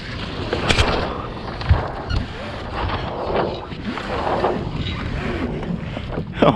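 A Hobie Tandem Island sailing kayak under way on Lake Somerset, with steady wind buffeting and water rushing and slapping against the hull up close, plus faint bumps and creaks.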